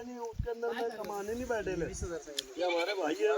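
Kathiawadi goats at a goat farm give several close, nasal bleats that overlap with someone talking loudly over them.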